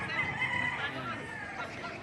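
Chickens in Padre Garcia, clucking and calling in a busy, noisy outdoor setting, with one high drawn-out call standing out early amid steady crowd-like chatter.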